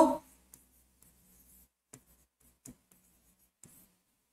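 Chalk writing on a board during a lesson: a few faint, scratchy strokes spaced through a few seconds, quiet and close. A brief voice sound comes at the very start.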